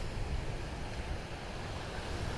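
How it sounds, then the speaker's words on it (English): Surf rolling in along the Outer Banks shoreline, a steady broadband wash of breaking ocean waves mixed with wind buffeting the microphone, continuous and fairly close with no voices. "look at the beautiful ocean"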